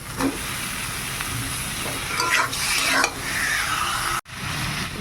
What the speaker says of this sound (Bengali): এবার মাংসটা দিয়ে দিই